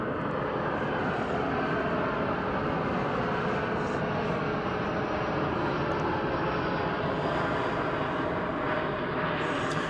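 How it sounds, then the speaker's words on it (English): An Airbus A319 jet airliner from San Luis Potosí, Mexico, roars steadily and loudly at DFW Airport, a constant dense engine noise with no voices. "This Airbus A319 comes to us from San Luis Potosí in Mexico."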